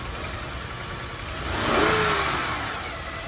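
A 2004 Honda Accord's engine runs at a city auction lot, a steady near idle that swells briefly as the car creeps forward and back, with no voices.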